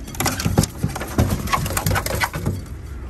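Pakistani flying pigeons coo repeatedly nearby, low throaty calls overlapping in a steady rhythm with light rustling in the background.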